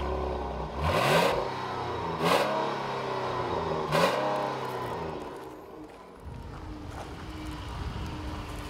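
2014 Dodge Durango with the Pentastar V6, engine revving up in three rising surges before settling to a steady idle, close and moderately loud.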